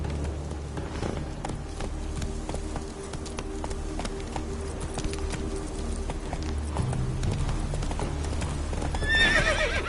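Hooves of Roach, a horse in The Witcher 3 video game, clip-clop in a steady galloping rhythm, with a neigh near the end, moderately loud over a faint outdoor ambience.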